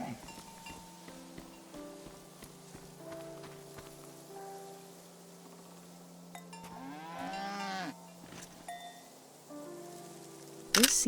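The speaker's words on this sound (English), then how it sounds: "The cow is called Frenzy." A cow named Frenzy moos in the video game Season: A Letter to the Future, a single drawn-out low call heard clearly over a soft ambient music bed with light rain.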